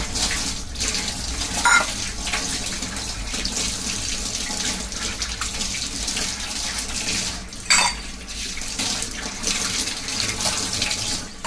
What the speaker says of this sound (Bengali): ধোয়া ধুই পর্ব চলছে।